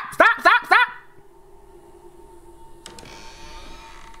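A door creaks open in The Walking Dead, three sharp, loud creaking squeals in quick succession, followed by faint hollow room ambience and a soft knock.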